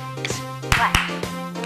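Hands clap sharply during a seated, chair-based cardio workout for older adults, with two prominent claps and a few lighter hits over steady background music.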